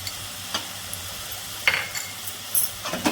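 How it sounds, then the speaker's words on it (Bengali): Onion paste, garlic paste and cumin sizzling softly in a pan, stirred with a utensil that scrapes and clinks in a few distinct strokes over a steady low hiss. "আর আমি এটাকে ভালো করে কষিয়ে নিই।"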